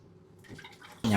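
Raw sausages are rinsed in changes of water in a kitchen, with soft sloshing that swells into a louder splashing burst at the end as someone talks nearby.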